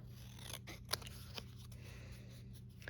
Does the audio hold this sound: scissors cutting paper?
yes